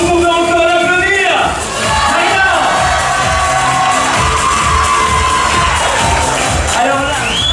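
A loud crowd cheers and whoops at a Miss pageant in Soignies Haute-Senne, a continuous dense roar of shouting voices with scattered high calls.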